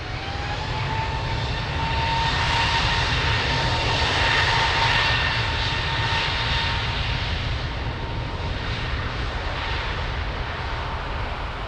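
Airliner engines roar steadily through a takeoff roll on runway 02 at Lisbon Airport, a loud, continuous broadband rumble with a thin whine riding on top, swelling slightly midway and holding strong to the end with no voices.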